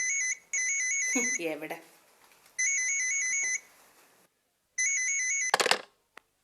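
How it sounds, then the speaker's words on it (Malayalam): An electronic telephone bell rings in three repeated bursts of trilling tones, loud and close, with pauses between; a person speaks briefly between the rings and a clatter follows the last burst. "ഈ ഫോൺ ബെൽ അടിക്കുന്നത് കേൾക്കുന്നില്ലേ?"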